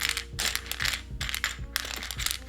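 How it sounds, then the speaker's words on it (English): Keycaps being pried one after another off a vintage Compaq MX11800 keyboard with brown switches, giving sharp plastic clicks and rattles in quick irregular succession, close and fairly loud with no talking. "I just pulled off a bunch of keycaps"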